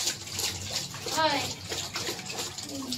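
Splashing and sloshing of water as a wet cloth is washed, close and uneven, under a person talking.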